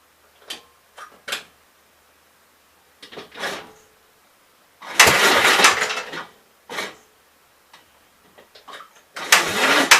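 A Gravely 44L engine on an electric start cart is cranked in several separate attempts, with short clicks and brief cranking bursts between quiet gaps, then two longer loud cranking runs up close.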